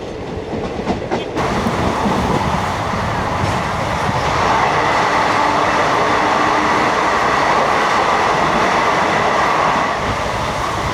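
A MEMU passenger train runs through the Kalanad tunnel, with a loud, steady, enveloping rumble of wheels and carriages that swells in abruptly after a moment and then holds constant.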